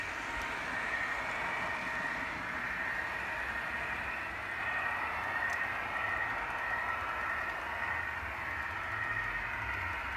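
A model Schnabel car rolls steadily along rails, a continuous faint mechanical whir and rumble holding at an even level for about ten seconds with no voices.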